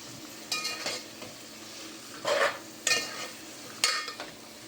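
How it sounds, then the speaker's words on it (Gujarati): A spoon stirs soya chunks into masala for veg biryani, making three or four separate bursts of scraping and light sizzling in the pan, with quiet gaps between them and no talk. "હવે બધાને આપણે મિક્સ કરી નાખીએ"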